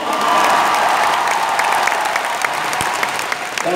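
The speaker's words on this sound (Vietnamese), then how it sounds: "hãy hợp sức cho một tràng vỗ tay lớn nhất cho chính bản thân các anh chị ạ" A large crowd claps at an Amway Founder Emerald recognition ceremony in Vietnam, producing a loud, dense wave of applause that peaks early and slowly thins, with a few scattered sharper claps toward the end.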